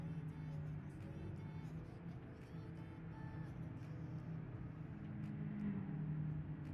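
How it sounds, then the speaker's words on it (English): A loud car engine in the video game BeamNG drones steadily with a low rumbling tone and slight revving swells throughout. "It's an extremely loud car."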